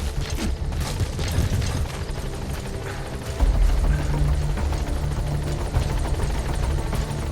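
A helicopter at Mother Base in Metal Gear Solid V drones loudly and steadily, its rotor throbbing close by with mechanical rumble throughout.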